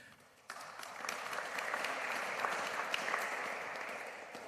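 Audience applause at a panel discussion on Africa-German development cooperation, a dense sustained clatter of many hands starting abruptly and holding steady at moderate distance.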